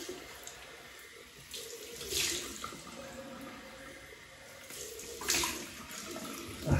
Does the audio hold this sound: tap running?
yes